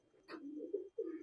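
A single pigeon coos softly at close range, a short low rolling call broken by a brief pause, faint and alone.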